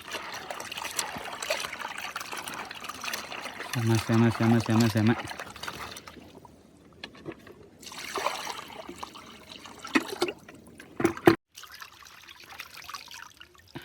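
Water is poured from a container while cooking village fish fry and curry outdoors, a loud steady trickling splash lasting a few seconds, with people talking before and after.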